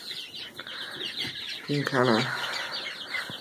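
Young ducks about three weeks old in their pen give a steady stream of high peeps, and one louder, honking call cuts in near the middle while a person talks quietly.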